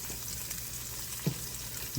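Chopped celery and onion sizzle and fry in a hot pot for a Southern pot roast, with a continuous close crackling hiss and a couple of soft stirring knocks.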